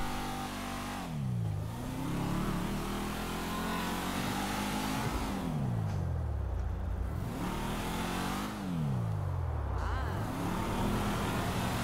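Toyota Camry 2019 in GTA 5 accelerating hard, its engine climbing in pitch through three rising rev sweeps, each dropping sharply at a gear change before building again; loud, steady and without speech.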